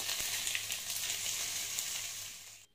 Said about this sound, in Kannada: ಪನ್ನೀರ್ನ ಈ ರೀತಿ ಚೆನ್ನಾಗಿ ಸ್ವಲ್ಪ ಡೀಪ್ ಬ್ರೌನ್ ಬರೋವರೆಗೂ ಈ ರೀತಿ ಫ್ರೈ ಮಾಡ್ಕೊಳ್ಳಿ